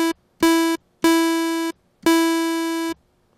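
Default synth patch in Massive with a gate amplitude envelope: three sustained buzzy tones and a short one, each starting abruptly and cutting off instantly on release, with silence between.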